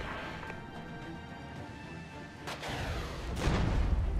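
Artillery strike explosions in the Regiments war game sound as faint, distant thuds over a low rumbling background, with two sharper impacts near the end and a swelling roar after the last.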